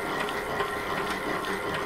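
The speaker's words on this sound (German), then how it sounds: "Hier zeige ich, wie man eine Spule aufspult, die dann nachher in das Schiffchen kommt." Bobbin winder winding white thread onto a weaving spool, a faint steady whirring with soft rhythmic ticking, quiet and continuous with no talk.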